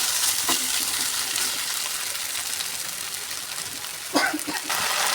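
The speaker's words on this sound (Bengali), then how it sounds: "সব মশলা দিয়ে দিয়েছি। এবার ভালো করে কষিয়ে নেব।" Potatoes fry in a pan with a ground chili and cumin spice paste, giving a steady close sizzle with a brief clatter of stirring near the end.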